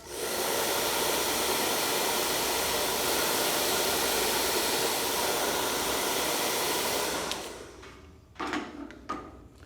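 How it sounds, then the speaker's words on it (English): A hair dryer blows loudly and steadily for several seconds, then cuts off, followed by a few faint clicks and handling noises. "Then I'll come in with a dryer."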